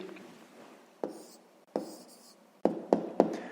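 A pen writes an answer by hand on paper: a few scratchy strokes separated by sharp taps as the pen is set down or lifted, close and quiet, with no talk.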